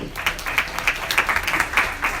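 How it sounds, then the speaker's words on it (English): A small group at a corporate bootcamp claps briefly, with distinct individual handclaps in an uneven rhythm rather than a dense roar, close and fairly sparse. "Give yourselves a round of applause."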